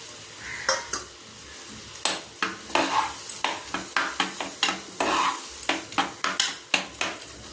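A spoon scrapes and stirs crushed roasted gram into pachadi in a pan, a steady series of sharp, close clinks and scrapes under a faint sizzle, with no voices.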